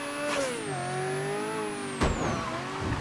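A car engine hums and revs in the video game Mafia 3, a smooth steady drone that rises and falls in pitch, with a couple of brief thumps.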